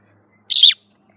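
A single short, bright chirp comes from a pet baby bird, loud and close, with near silence before and after.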